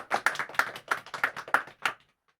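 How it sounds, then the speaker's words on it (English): A single person claps their hands loudly about ten times in an even, brisk rhythm, each sharp, close clap ringing clearly before the sound stops in silence. "I clap my hands loudly."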